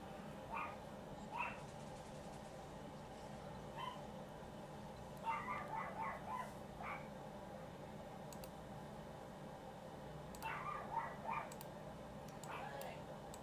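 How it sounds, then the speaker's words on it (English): A dog barks in the background in short bursts, some yipping, recurring several times over a steady murmur of game sound and music. "Sorry if you can hear the dog."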